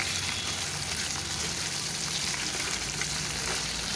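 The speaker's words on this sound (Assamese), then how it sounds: "আৰু মাংসখিনি দিয়াৰ পিছত এনেকৈ অলপমান লৰাই দিম ধুনীয়াকৈ।" Chicken pieces fry in hot oil beside browned onions, giving a steady, dense sizzle that stays loud and even throughout with a faint scrape of stirring beneath it, no voices.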